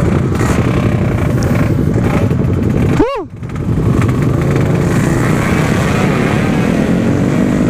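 Loud motorcycle engines roar steadily nearby as Kawasaki Ninja RR bikes ride, with one engine revving sharply in a rising whine partway through before the drone resumes, and a rider talks over the noise.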